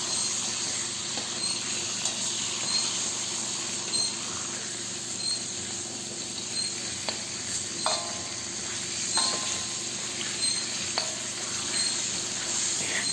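Pork chop frying in a pan for pork binagoongan, a steady close sizzle and crackle running throughout with occasional soft stirring clicks, no voices.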